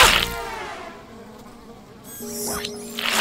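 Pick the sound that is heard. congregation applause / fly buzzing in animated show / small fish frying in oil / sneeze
fly buzzing in animated show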